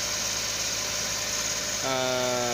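A Suzuki DA63T multicab engine with a fault that makes it idle at high RPM runs steadily and close by, and its drone steps up to a higher, stronger hum near the end.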